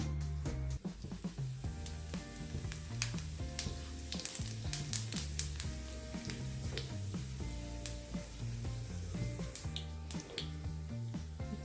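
Dense crackling and popping of cumin seeds in hot oil, a continuous sizzle with sharp sputtering bursts throughout.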